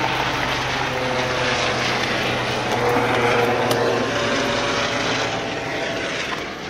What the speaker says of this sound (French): l'hélicoptère qui passe, vous allez peut-être le voir